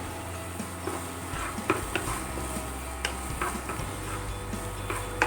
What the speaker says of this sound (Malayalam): നമുക്ക് സവാളയെല്ലാം നല്ലപോലെ ഒന്ന് വഴറ്റി കൊടുക്കാം.